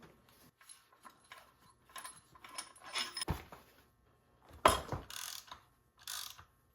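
A ratchet wrench loosens the main bolt on a Yamaha Venture 600 triple's clutch, close up: bursts of pawl clicking and metallic clatter, then a louder clack as the bolt breaks free and a final run of ratcheting.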